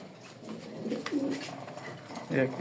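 Racing pigeons in a loft coo in soft, repeated throaty phrases nearby, mixed with someone talking.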